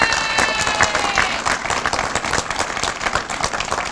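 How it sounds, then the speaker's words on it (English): Audience applause honoring a fire protection district at a Veterans Day parade and Veteran of the Year ceremony in Florissant, dense steady clapping mixed with crowd noise and some cheering throughout. "Let's give them a round of applause."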